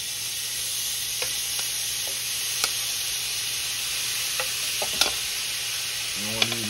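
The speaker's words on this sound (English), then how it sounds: "I wanna get a nice sear on this shrimp." Shrimp searing in a very hot pan, a steady bright sizzle with a few light clicks and taps of utensils, ending in a brief clatter.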